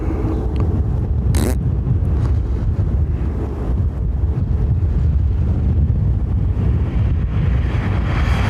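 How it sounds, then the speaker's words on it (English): Steady wind buffets the microphone outdoors at Dublin Airport, a continuous loud low rumble with a broad hiss and no breaks for the full stretch. "Wind."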